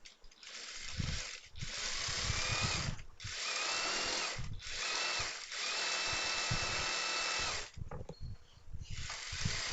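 A sewing machine stitches the seam of an XXL chudithar pant in several bursts of fast whirring motor and needle clatter, separated by short pauses, close and steady.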